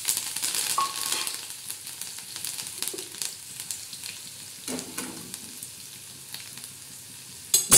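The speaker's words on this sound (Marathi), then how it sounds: "त्याला चांगला तडका द्यायचा।" Garlic and cumin crackle and sizzle in hot oil after curry leaves for a tadka, a busy close frying hiss with scattered pops and spoon stirs, no talking.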